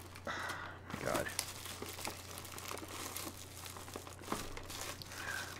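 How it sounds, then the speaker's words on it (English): Plastic wrap crinkles and tears as it is stripped off a Yu-Gi-Oh Kaiba collector box, a run of close, soft rustling bursts with a brief gasp-like breath near the start over a steady low hum. "Once I get the plastic off"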